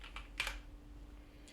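A few quick presses on a computer keyboard: soft, close clicks bunched in a short burst, then one more tap after a brief pause, in a quiet room.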